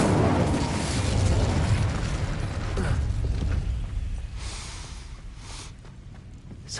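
Incendio fire spell cast in Hogwarts Legacy, a rushing, roaring blast of flame that swells loudly from the start, holds with crackling body, then thins and fades toward the end with no voices.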